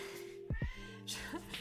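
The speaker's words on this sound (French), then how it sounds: "le chat il miaule en même temps" A cat meows indoors in a couple of short, close cries, heard alone above a steady low background hum.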